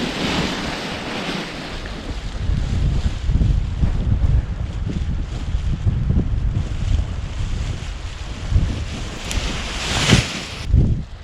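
Strong wind roars and gusts across the microphone at a paragliding launch site, a steady buffeting rush with louder swells near the end and no speech.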